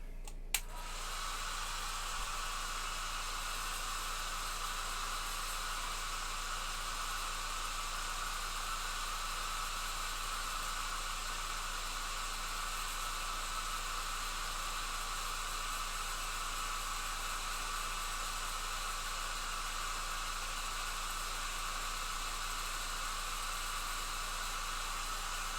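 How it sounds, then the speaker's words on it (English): A hair dryer blows steadily to dry paint on a miniature of Yndrasta, the Celestial Spear, a constant loud hissing whoosh with a click at the start and no break for the full stretch. "Next, hit it with a dryer."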